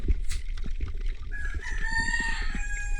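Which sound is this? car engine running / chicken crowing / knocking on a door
chicken crowing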